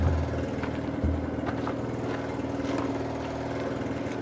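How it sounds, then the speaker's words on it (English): Air compressor running steadily beside a backhoe during greasing and maintenance, a continuous droning mechanical hum with a faint rattle, moderately quiet and unbroken throughout. "I don't know if you can hear me, but the compressor's going."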